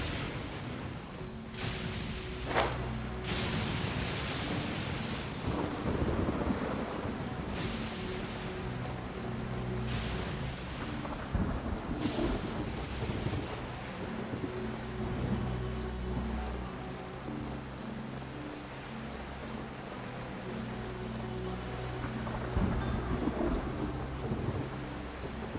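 Rain pours steadily throughout a stormy scene in the video game Genshin Impact, with several rolling and cracking thunder peaks rising above the constant hiss, plus a faint low musical backing.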